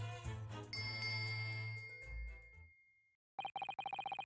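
In The Great Ace Attorney Chronicles, a bell cord beside a bed in a ship's cabin is tugged. Music cuts off, and after a short pause a bright bell rings in a quick string of repeated, rapid clear chimes.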